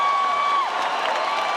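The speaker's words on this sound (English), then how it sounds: "Listen to this crowd." A large UFC arena crowd roars and applauds after a fight is stopped, a loud, continuous wash of cheering, whoops and clapping with no pause.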